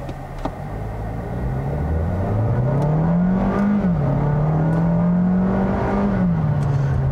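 A 2021 Kia Seltos turbo engine with a dual-clutch transmission accelerating hard from inside the cabin, a loud droning pull whose pitch climbs, dips briefly at a gear change, then climbs again, with no talking.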